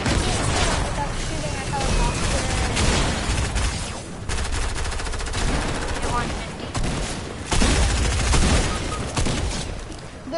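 Gunfire in a PlayStation 4 shooter game crackles in dense bursts and repeated volleys throughout, loud and continuous, with a person's voice talking at times beneath the shots.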